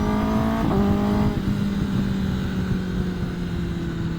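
A Kawasaki Ninja ZX10R motorcycle fitted with a Leo Vince exhaust can drones steadily, its engine note shifting down in pitch early on, then holding a smooth, fairly loud tone close by with no voices.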